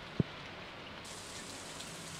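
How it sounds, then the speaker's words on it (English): Steady rain from the Stardew Valley video game fills the clip as an even, hissing wash with one soft thump near the start, no voices over it. "Yes! Rain! I love rainy days!"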